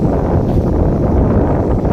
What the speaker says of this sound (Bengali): এই দেখো হাওয়া ছেড়েছে এখন, আর এই গাছে তোলা দিচ্ছে, এই হাওয়াতে